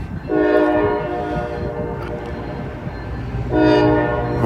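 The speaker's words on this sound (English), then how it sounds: "there's a bunch of locomotives on this guy" A freight train hauled by several locomotives rolls past close by under a steady rumble, its horn giving two loud, sustained blasts, one near the start and another near the end.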